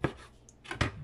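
Olives being sliced with a knife on a board for an anchovy salad, a few sharp close cuts separated by quiet pauses.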